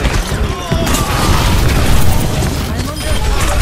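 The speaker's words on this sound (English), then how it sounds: "I'm ready to initiate self-destruct sequence." D.Va's mech self-destructs in Overwatch, setting off a loud, booming explosion with a rolling, sustained rumble and crackling debris that fills the whole moment.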